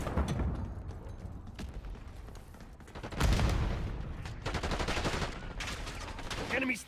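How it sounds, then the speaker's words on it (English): Gunfire from an enemy sniper in Call of Duty Black Ops 6 mixes with scattered shots and game effects, moderately loud in a busy firefight with faint voices. "Enemy sniper shooting."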